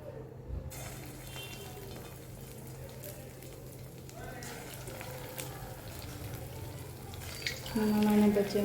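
Small bhajiya fritters made from leftover rice batter sizzle in hot oil on a lowered gas flame, a steady close crackle that swells louder near the end.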